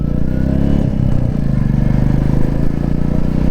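Royal Enfield Classic 350 single-cylinder motorcycle exhaust while riding, a loud, steady low thump with continuous engine rumble and some rattle, close up throughout with no talking.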